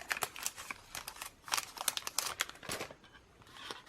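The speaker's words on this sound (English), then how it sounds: "I think I'm going to fussy cut the outer lines." Scissors fussy cutting around a paper image for a mixed media art journal page: quiet, close rapid snips and crinkling paper in an irregular rhythm, with no talking.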